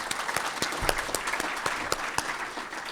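Audience applause at a business recruitment conference session, a dense steady patter of many hands clapping with sharper individual claps standing out, sustained at moderate level throughout.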